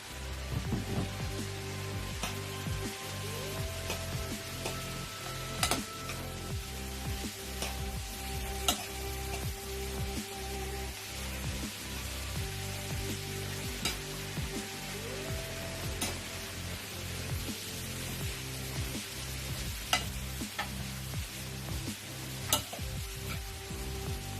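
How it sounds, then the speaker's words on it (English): Butter frying in a pan while preparing curry shrimps, a steady sizzle with occasional scraping and stirring clicks, continuous and fairly close with no talking. "I'm going to put a little bit of butter."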